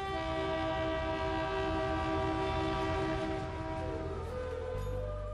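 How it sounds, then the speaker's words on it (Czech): Passenger train in India running from Muzaffarpur to Motihari, with a long, steady horn blast over a continuous rumbling rail noise, loud and close throughout. "Konečně jsem se dostal do svého prvního vlaku z Muzaffarpuru do Motihary."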